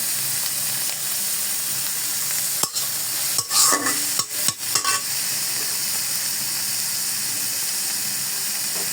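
Malai chicken frying in a pan until light golden brown: a loud, steady hissing sizzle throughout, broken midway by a cluster of clattering spatula scrapes and knocks as the pieces are stirred, heard up close with no voices.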